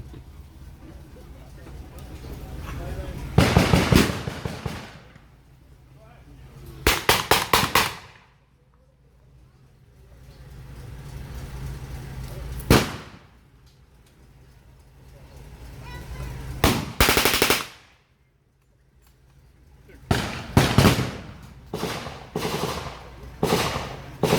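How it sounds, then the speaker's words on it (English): Bursts of automatic fire from a German 9mm Schneider machine pistol at an outdoor war reenactment, several loud rapid volleys separated by pauses, alongside some distant shots and faint talk. "That weapon you heard there was a Schneider machine pistol, 9mm."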